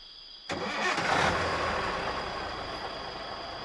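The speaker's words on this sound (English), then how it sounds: "Joe started the engine, and the journey began." A truck engine cranks and catches abruptly, then settles into a steady, loud mid-pitched idle rumble, heard close with no talk.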